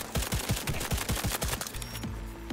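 Smart gun in Cyberpunk 2077 firing a rapid burst of about ten sharp shots in quick rhythm, loud and close, followed by a lower mechanical hum as the firing stops.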